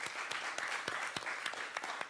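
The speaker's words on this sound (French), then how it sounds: "On peut vraiment vous applaudir." A crowd applauds steadily throughout, a dense wash of clapping with a few sharper individual claps standing out.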